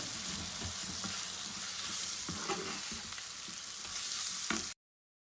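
Mutton roasts in a pan with cumin, coriander, pepper, chili, turmeric and salt, making a steady close sizzle broken by scraping stirs, then stopping abruptly.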